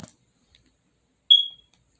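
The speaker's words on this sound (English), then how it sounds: "it makes a beeping sound." A TV remote held near an electric guitar pickup makes one short, fairly loud electronic beep through the amp that fades quickly, with near silence around it and a small click at the start.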